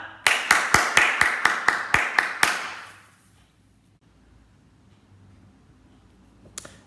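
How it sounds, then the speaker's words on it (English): Crisp, fairly loud clapping at a primary school assembly, about nine regular claps in quick succession, then quiet room tone with a faint knock near the end. "Come on, classes, give them a clap."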